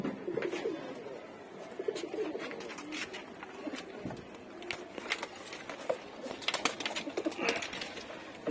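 Breeding pigeons paired up in a loft coo softly in repeated low phrases close by, mixed with occasional rustles and wing flutters, with no speech.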